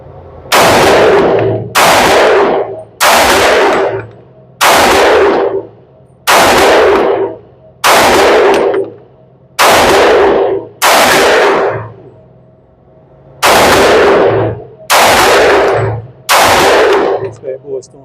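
A Glock G23 pistol firing .357 SIG rounds outdoors, about a dozen loud, sharp single shots spaced roughly a second and a half apart, each followed by a brief echoing tail.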